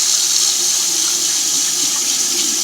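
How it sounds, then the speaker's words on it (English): Water gushes steadily from a faucet into a sink, a loud, continuous hiss and splash running throughout with no pauses and no voices. "and now I turn on the water."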